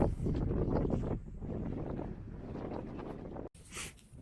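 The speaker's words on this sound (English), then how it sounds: "I know it's windy" Strong, steady wind buffets the microphone in a low roar at a mine, broken briefly near the end by a sharp cut and a thinner, hissy gust.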